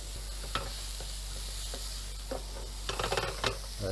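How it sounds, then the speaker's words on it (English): Chorizo, about 100 grams, sizzles steadily in a frying pan as it is stirred and its oils render, with scraping clatters of the utensil growing busier toward the end; close and clear with no talk. "Move that around, stirring it around, getting those oils from the chorizo out there."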